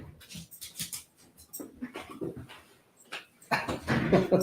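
A small dog whimpers close by in soft, broken whines and snuffles, coming in short bursts that grow a little louder toward the end.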